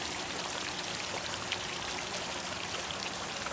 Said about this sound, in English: You do have water dripping out the back there a little bit.